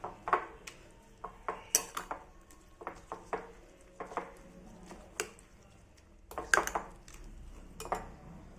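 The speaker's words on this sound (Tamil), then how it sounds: "இப்போ இதை நம்ம நல்லா மிக்ஸ் பண்ணி எடுத்துக்கலாம்." Whisk or spoon clattering against a bowl while omelette ingredients are mixed, a run of sharp clinks and taps at an uneven pace, fairly close, with no talk.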